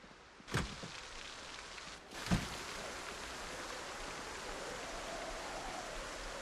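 Steady rain hisses in the Project Zomboid video game, a soft even wash broken by two brief thumps near the start.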